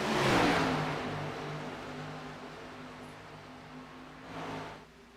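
Race cars battle closely for second place, engines droning and accelerating at a distance, a steady mid-level roar that swells briefly at the start and near the end.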